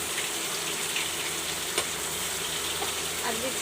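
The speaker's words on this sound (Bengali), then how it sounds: "এবার আমি দিচ্ছি পেঁয়াজ, রসুন, আদা" Onion, garlic and ginger paste fries in a pan with a continuous dense sizzle and occasional crackles, close and steady, with no talking.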